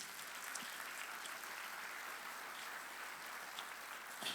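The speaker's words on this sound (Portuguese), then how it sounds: "Podemos aplaudir ao Senhor pela vida deles." A church congregation claps during a baptism service, a soft, distant wash of steady applause heard at low volume throughout.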